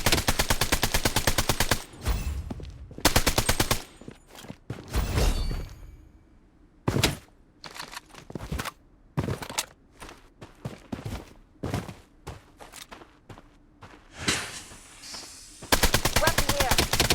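Automatic gunfire in the shooter game Blood Strike rings out in loud, repeated bursts separated by short pauses, with a long sustained volley at the start and end and quieter thuds and steps between.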